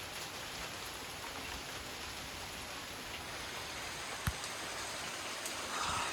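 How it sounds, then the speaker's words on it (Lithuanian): Rain falls in a steady, faint, even hiss, with a single sharp tap partway through. "Lietus lyja"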